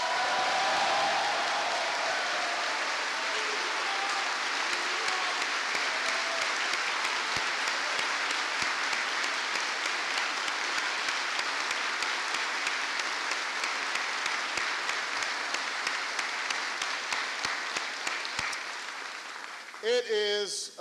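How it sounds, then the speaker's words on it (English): A large audience at Yongsan Garrison gives a Medal of Honor recipient a long, loud, sustained round of applause that fills the hall for about twenty seconds before fading out. "Please give him an extraordinary round of applause."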